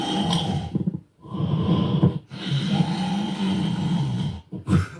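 A voice imitates an old man's loud snoring, producing harsh, rasping snorts and breathy rumbles in several bursts separated by short pauses.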